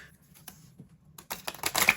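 A deck of tarot cards is shuffled during a psychic card reading. Quiet, scattered ticks at first build into a brisk, close riffling and rustling that grows louder toward the end, with no talking.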